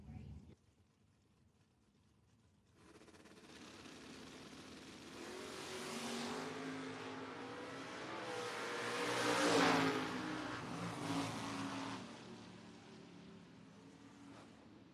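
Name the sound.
drag race cars launching, a Vega and a Camaro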